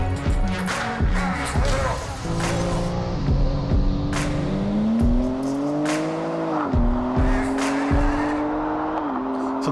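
A BMW M4 G82 on a race track, its engine note rising and falling through gear changes with tire squeal and passing-car whoosh, loud and close throughout.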